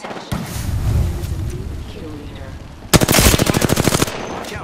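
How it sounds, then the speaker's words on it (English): Apex Legends gunfire bursts out after a stretch of a rumbling battle ambience, a rapid automatic volley of evenly spaced loud shots, with some speech heard under the action. "The enemies are shooting at me"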